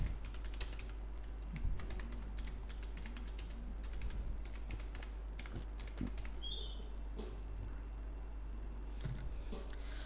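An institute name is typed on a computer keyboard into an Excel sheet, with faint, rapid keystroke clicks over a steady low hum in a quiet room.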